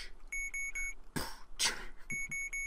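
Beeping in short groups of three electronic tones, interrupted by breathy noise bursts, then resuming the same triple pattern at the end.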